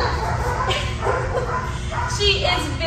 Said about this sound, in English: she was barking a little bit